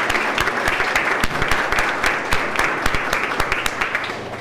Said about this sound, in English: I would like to offer them a round of applause